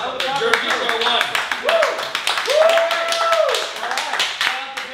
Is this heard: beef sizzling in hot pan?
no